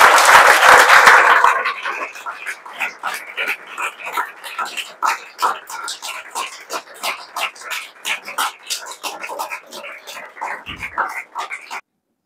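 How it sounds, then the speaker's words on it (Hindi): Students at a coaching institute's JEE Main 2025 results celebration stand and clap together; a loud burst of applause opens, then steady, dense clapping carries on for about ten seconds. "आप लोग खड़े होकर ताली बजा दीजिए कि जोश आ जाए।"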